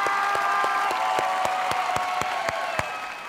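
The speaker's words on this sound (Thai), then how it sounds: "ขอเสียงปรบมือเป็นกำลังใจ" Studio audience applause on a Thai TV game show, dense steady clapping with sharper individual claps over a background tone, lasting a few seconds.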